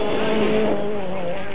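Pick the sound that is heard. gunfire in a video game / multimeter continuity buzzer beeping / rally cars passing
rally cars passing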